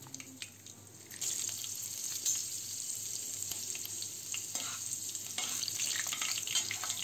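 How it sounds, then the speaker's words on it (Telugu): Tempering spices frying in hot oil for an onion curd chutney, a steady close crackling sizzle that picks up and grows denser after the first second, with no voices. "మొదటగా కాగిన నూనెలో పోపు సామాగ్రి వేసి బాగా వేయించాలి."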